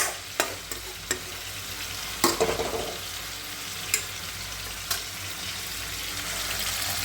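Amodi fish frying in a kadai, a constant oily sizzle with several sharp clinks and scrapes of a spatula stirring, one louder splattering burst early on, no talking.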